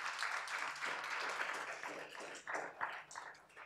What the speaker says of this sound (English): May we please give him a round of applause for this honor.